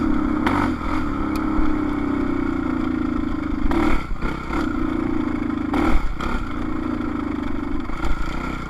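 A 2010 Suzuki RM-Z450 dirt bike engine runs at a steady mid-throttle drone, with several brief blips and dips as it bogs and recovers, heard loud and close with no talking.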